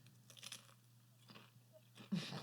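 Crunchy Funyuns onion-ring snack being chewed close to a microphone, a few faint crisp crunches followed by a louder crunch near the end, with no talking.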